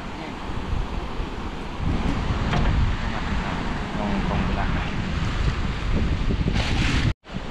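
Strong, steady wind at sea roars across the microphone with rushing water beneath it, continuous and loud throughout, cutting out abruptly near the end.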